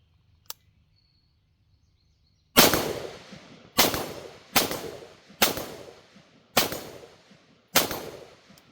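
A Sig Sauer Sig556 rifle chambered in 5.56 fires six loud, sharp shots at a steady, unhurried pace outdoors, each crack trailing off in a short echo, after a brief quiet stretch and a small click.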